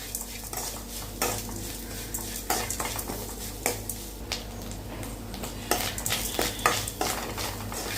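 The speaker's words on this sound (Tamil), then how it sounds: "உப்பு போட்டு நல்லா வதக்கிக்கலாம்" Grated coconut with salt stirred in a pan for coconut rice, with repeated scraping and clinking of a spoon against metal over a steady low sizzle, close by.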